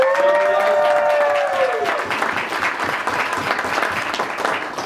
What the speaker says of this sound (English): Give a round of applause for them real quick.